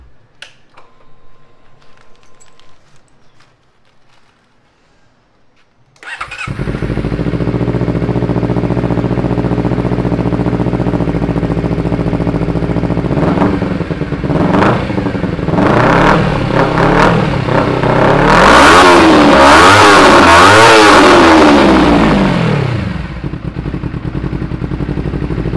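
A Honda CBR250RR fitted with an Akrapovic slip-on exhaust cranks and fires up after a quiet start, then idles loudly and close before a series of sharp throttle blips builds to sustained high revs and settles back.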